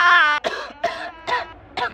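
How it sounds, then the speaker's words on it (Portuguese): A person coughs four times in quick succession, loud and close, with a breathy vocal sound just before the first cough and no other noise. "agora eu não tô tossindo por tossir"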